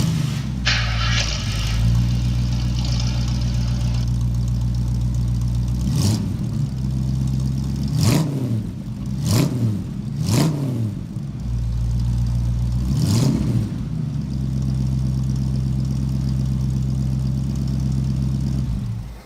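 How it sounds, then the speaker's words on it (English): A 1946 Ford pickup truck's engine idles with a loud, steady rumble, broken by several sharp revs, about five throttle blips, before settling back to idle. "This specifically is my dad's 1946 Ford pickup. It doesn't look like much, but trust me, this thing sounds amazing."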